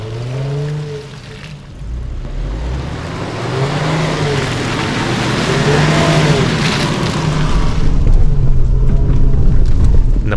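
A Land Rover Discovery 5 climbing a soft, damp dirt track off-road, its engine note droning and rising steadily as it pulls uphill, loud and close with rumbling tyre and road noise building toward the end.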